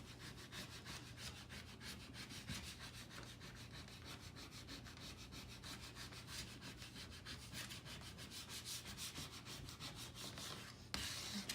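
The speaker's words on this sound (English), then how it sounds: "take your credit card, and working from the center, you're going to press it down. Gentle, but with pressure" Credit card rubbing a decal onto stained wood, a fast even scraping rhythm of strokes, close and fairly quiet, continuing steadily for over ten seconds.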